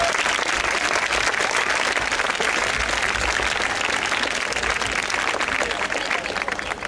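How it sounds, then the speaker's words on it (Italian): An audience at an Italian high school event applauds, a dense, steady wash of many hands clapping that holds loud for several seconds and thins slightly toward the end, with no clear voices over it. "fate un applauso per noi"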